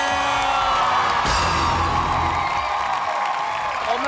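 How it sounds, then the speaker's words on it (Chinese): A television talk-show studio audience cheers and whoops steadily, a dense, continuous crowd roar of applause and shouts welcoming a guest, loud and close throughout with a brief swell early on. "让我们掌声欢迎今天的男神"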